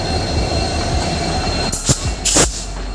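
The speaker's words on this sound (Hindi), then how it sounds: "यहाँ पर अपनी ट्रेन का लोकोमोटिव चेंज होता है।" An Indian Railways train at a station during a locomotive change gives off a loud, continuous rumble of rail noise. Near the end come two sharp bursts of wheel squeal and metallic clanks.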